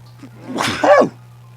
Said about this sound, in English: Is that the first time I've sneezed on camera or in recording?